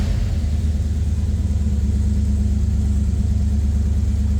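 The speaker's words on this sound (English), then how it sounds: "That was a cold start." A 1971 Chevrolet Nova's engine idles right after a cold start with a steady, deep, loud rumble and a slight lope, close by and alone.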